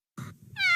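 A cartoon cat in a Doraemon episode gives one short, bright, rising meow, loud and close, right after a brief muffled thump.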